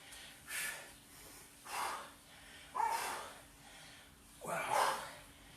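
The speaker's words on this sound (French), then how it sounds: "Soufflez bien en montant." People exhaling hard in rhythm during a live group exercise workout, four or five breathy gusts spaced about a second apart, fairly close and without talk.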